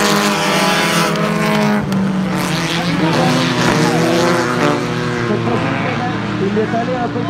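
Stock cars race on a track, their engines roaring loud and close with rising and falling pitch as they pass, under continuous excited commentary from a race announcer.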